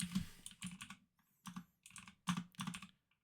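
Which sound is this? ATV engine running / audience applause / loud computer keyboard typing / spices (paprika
loud computer keyboard typing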